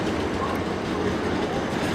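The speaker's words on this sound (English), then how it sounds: "1136 South Western Railway service to Hampton Court on 2 Juliet 27" A South Western Railway train pulls away at London Waterloo, its steady rumble and rolling wheel noise filling the station at close range with no talk.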